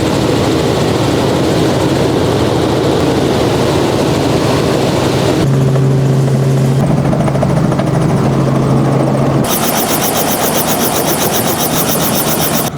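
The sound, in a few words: helicopter in flight, heard from inside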